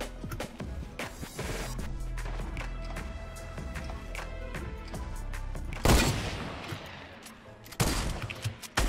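A grenade launcher fires in Fortnite Battle Royale amid busy gunfire, with punchy booming blasts standing out above a continuous clatter of shots and footsteps.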